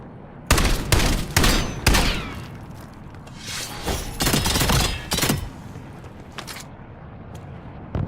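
Bursts of video game gunfire crack in loud, irregular volleys of rapid shots, with several sharp clusters early on before thinning to a quieter tail.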